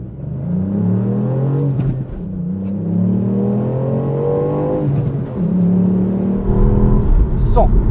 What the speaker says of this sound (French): Allez, on va tenter un petit 0 à 100 en faisant pas trop patiner les roues parce que c'est mouillé.